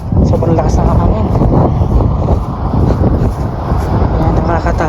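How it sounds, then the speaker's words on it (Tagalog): Strong gusting wind roars outdoors across a backyard in Canada, a loud and continuous rush of air buffeting the microphone that holds steady for the whole stretch without pause. "sobrang lakas ng hangin"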